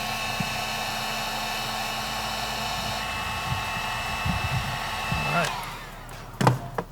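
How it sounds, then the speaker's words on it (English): Heat gun shrinking tubing on wiring during ECU work on a twin-turbo 300ZX, a steady blowing hum running close and alone, ending with a short thump and brief rustle. "then we'll use our heat gun on there"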